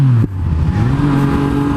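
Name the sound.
motorcycle passing by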